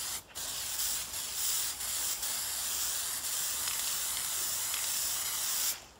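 Spray paint can spraying a computer case, a close, loud continuous hiss held for several seconds with a few brief dips and pauses between bursts.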